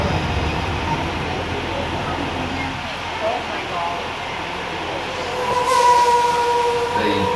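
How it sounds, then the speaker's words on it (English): A Universal Studios theme park tram rumbles steadily along a rough, narrow trail through Skull Island, with rattling and faint squeals from the wheels and a slight swell in noise near the end. "The Universal Tram is winding its way through a very rough, narrow trail in Skull Island"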